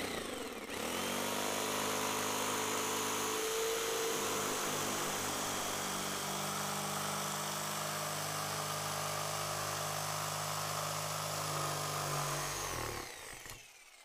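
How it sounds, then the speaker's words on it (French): A jigsaw cuts a U shape through a clamped wooden board, running loud and continuous for about twelve seconds before winding down, with no talking. "coupez en U avec votre scie sauteuse"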